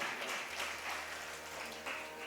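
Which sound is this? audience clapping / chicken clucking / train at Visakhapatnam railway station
audience clapping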